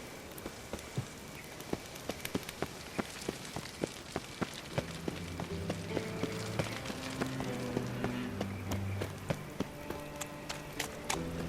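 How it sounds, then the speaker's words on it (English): Rain patters in The Witcher 3, dense drops pinging on surfaces with sharp irregular ticks, while a low melodic tone rises beneath partway through, steady and close throughout. "I like rain. Keeps the rogues indoors."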